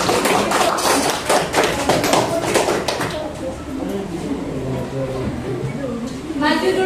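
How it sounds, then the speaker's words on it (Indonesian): A grade 7 classroom bursts into applause for a winning student group, a burst of scattered clapping from many students that gives way to voices and chatter. "Tepuk tangan dulu untuk kelompok 3"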